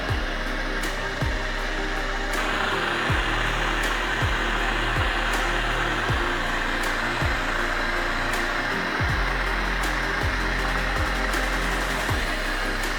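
A heat gun blows steadily and loudly while warming a kayak paddle, a constant airy roar through the whole stretch with faint periodic ticks from handling in the background.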